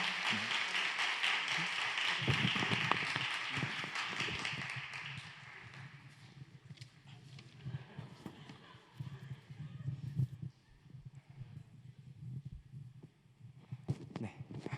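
A church congregation applauds a newly baptized young member at a Korean Holiness church youth service, a dense burst of clapping for about five seconds, then fading to scattered noise and murmuring voices.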